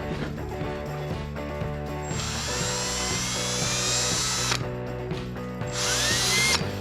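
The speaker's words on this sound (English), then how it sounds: "So let's get them holes drilled." A power drill bores holes in metal for a custom brush guard on a lawn tractor, its motor whining steadily with a ratcheting, grinding bite as the bit cuts, then briefly easing off before spinning up again; close and loud, no talk.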